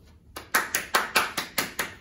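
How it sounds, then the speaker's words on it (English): Clapping from a small audience after a student presentation, about eight sharp, evenly spaced claps in a quick steady rhythm after a brief quiet start, close and clear. "Huge round of applause."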